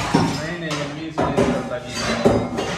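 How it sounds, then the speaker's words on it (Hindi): Metal pots and dishes clatter and clank in a few sharp bursts nearby, while a voice talks over the kitchen noise. "पीछे बर्तन की आवाज बहुत आ रही है"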